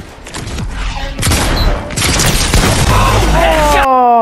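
Gunfire in the Fortnite video game during a one-versus-one Battle Royale match: a burst of loud shots and booms through the clip, with voices talking over it and a descending tone near the end.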